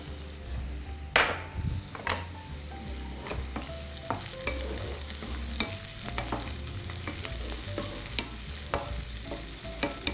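Raisins and dried cornelian cherries frying in a pan, a steady low sizzle with repeated scrapes and clinks of a spoon stirring them, close and fairly quiet.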